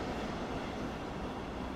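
An S-Bahn train in Train Sim World 5 rolls past as a steady, faint low rumble of rail noise, with no voices over it.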